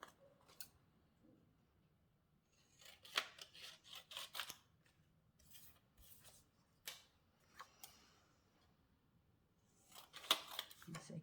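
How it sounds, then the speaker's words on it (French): Scissors snip through paper or card for a small Easter frame craft, bursts of crisp cuts in quick clusters, faint and close, with quiet gaps between. "puis je coupe et je recoupe"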